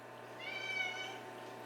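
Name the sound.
cat meowing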